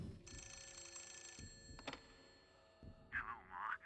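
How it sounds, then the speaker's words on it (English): An old telephone rings in the horror video game The Suffering, two long electronic rings spaced by a short pause, followed by a brief pickup clatter, heard alone at moderate level. "Oh, the phone's ringing."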